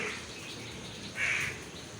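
A crow gives a short, faint caw near the middle, set against steady rain-like hiss outdoors on a rainy day.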